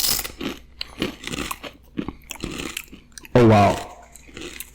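Close, crisp crunching and chewing of seasonal chips in short bites, followed by a brief vocal exclamation, with a person talking lightly throughout.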